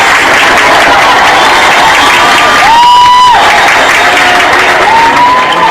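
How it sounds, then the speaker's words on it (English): Graduation audience at a high school ceremony applauding and cheering loudly and steadily throughout, with a few whistles and shouts rising above the dense clapping. "Quick round of applause for our attendance secretary, Tina Gift."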